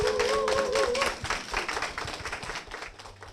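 An audience at a church gathering breaks into applause, a dense patter of clapping that gradually thins out, with a brief sustained tone near the start.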